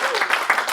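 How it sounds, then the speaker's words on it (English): Crowd applause for the organizer of a community event in San Francisco, a dense, steady patter of many hands clapping close by for under a second, with voices mixed in. "can we just give another huge round of applause to Susan"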